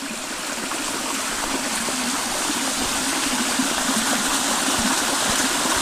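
A waterfall stream in the Nallamala forest hills rushes in a steady, loud, broadband roar of falling and flowing water, continuous and close throughout.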